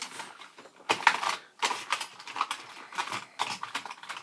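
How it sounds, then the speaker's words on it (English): A toothbrush scrubs the keys of a Commodore 64C computer keyboard in quick, close, bristly bursts, a dry rustling scrape in uneven strokes with short pauses between. "You get into the cavities pretty good with the toothbrush."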